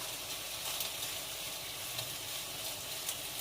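Bacon frying in a pan for a simple home breakfast, giving a steady, close, even sizzle and crackle throughout with no talking.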